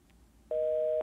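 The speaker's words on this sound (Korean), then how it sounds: "전화가 끊어졌네" A telephone line goes dead after a call drops, and a loud, steady electronic tone starts abruptly and holds for about half a second.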